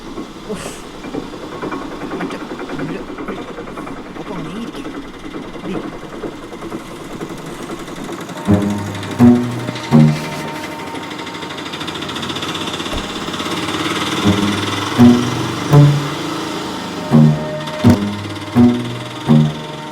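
An auto-rickshaw engine idles and runs on a night street, a steady low mechanical rumble with rhythmic knocking pulses that grow stronger in the second half, fairly close and alone.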